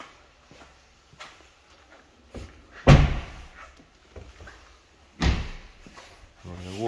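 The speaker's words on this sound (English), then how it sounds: "close these doors up." Doors of a Range Rover Sport HSE Dynamic slam shut, two heavy solid thuds a couple of seconds apart, surrounded by quieter handling noises and footsteps.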